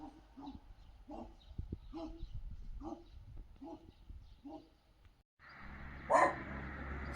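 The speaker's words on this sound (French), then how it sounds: "notre ami le chien a des réclamations à faire" A dog at a property gate in rural Bucovina, Romania, barks in a steady series of about eight sharp woofs at moderate distance, followed by a louder, closer noise burst.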